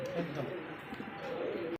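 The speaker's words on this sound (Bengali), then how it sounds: "এত সুন্দর এক জোড়া লাহরি কবুতর তাও আবার সিলভার লাহরি" A pair of silver Lahori pigeons cooing softly, close by, with low continuous throaty coos running through the whole short stretch and no talking.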